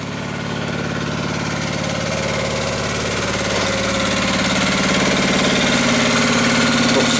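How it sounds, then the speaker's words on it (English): A Honda EX800 portable generator runs steadily throughout, a loud, continuous engine drone with a mechanical buzz and slight knocking vibration, growing a little louder toward the end. "Let's have a look at the generator, shall we?"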